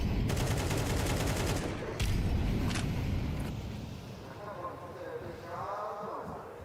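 Rapid rifle fire from a Counter-Strike 2 match at a Shanghai Major elimination-stage broadcast, dense bursts of shots in the first few seconds, then fading beneath continuous caster commentary and game noise.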